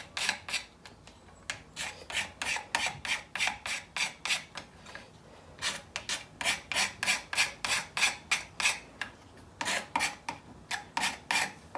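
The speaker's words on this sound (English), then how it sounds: "So I'll just take a few shavings off that" A hand tool shaves a hickory adjustment pin in quick, regular rasping strokes, close and crisp, repeating steadily in two runs separated by a brief pause.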